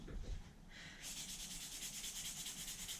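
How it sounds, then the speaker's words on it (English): Steady back-and-forth rubbing of 200 grit fine sandpaper on a yard garden statue, a close, even scratchy rhythm of strokes that begins after a brief softer rustle and then repeats evenly with no talking. "Now I'm just using 200 grit fine sandpaper."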